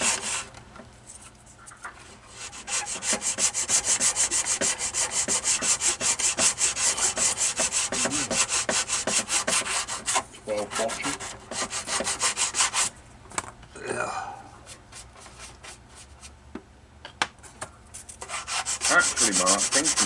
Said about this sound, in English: Make sure it's nice and flush in there. Do a lot of sanding here and there,